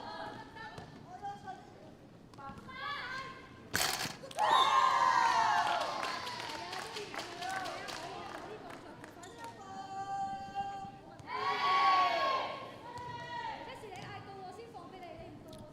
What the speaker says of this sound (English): They are cheering each other.